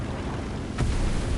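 A bomb dropped from a Focke-Wulf aircraft in the War Thunder game bursts in a single muffled distant blast, rising suddenly over a steady engine drone and then rumbling on.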